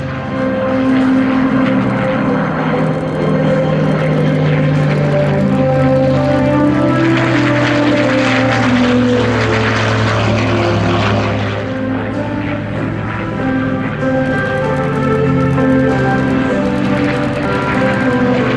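A British Supermarine Spitfire Mk IX propeller fighter takes off at a Thunder Over Michigan air display, its engine roaring loud and steady throughout with a throaty, continuous drone that swells slightly as it climbs away.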